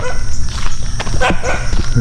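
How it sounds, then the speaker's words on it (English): A dog barks repeatedly and loudly close by during a morning walk on a rural road, with several sharp barks and yips over footsteps and outdoor noise. "pretty vocal dog up here"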